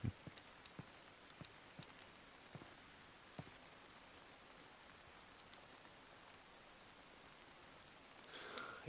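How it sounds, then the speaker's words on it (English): Light drizzle falls in a heavily modded tactical shooter game, a soft steady patter with scattered sharper drop ticks, faint and continuous throughout, with a brief louder burst near the end. "It's drizzling, bruv."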